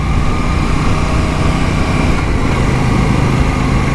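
Royal Enfield Classic 650 motorcycle engine at riding speed, a steady, loud continuous drone with strong wind noise and no let-up throughout, heard from on the bike.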